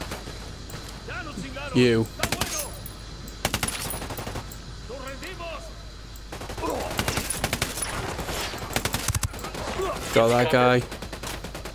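Gunfire rings out in the video game Ghost Recon Wildlands as sharp shots and rapid bursts crackle through the scene, with a brief louder volley near the end, while someone talks between them.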